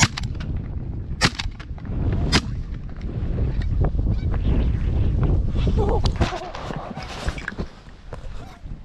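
During a Canada goose hunt outdoors, sharp shotgun blasts crack out among hunters' voices and field noise, with a couple of loud reports standing out near the start and more scattered pops and talk later.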